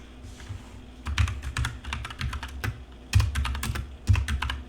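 Rapid clattering keystrokes on a computer keyboard come in uneven bursts with short pauses, close and clear, with no talking.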